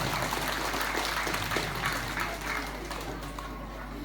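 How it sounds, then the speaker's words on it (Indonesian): A church congregation at a Catholic quasi-parish in Lewumbangga, celebrating National Children's Day, claps together in a broad, sustained burst that slowly fades, heard from within the hall. "Mari Bapak Mama sekalian, umat Kuasi, kita tepuk tangan"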